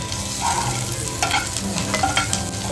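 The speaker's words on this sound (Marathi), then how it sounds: "लसूण मिरचीची फोडणी दिली आणि कढीपत्ता" Garlic, green chili and curry leaves tempering in a little hot oil for Chicken 65, a steady close sizzle with light stirring scrapes of a spoon in the pan.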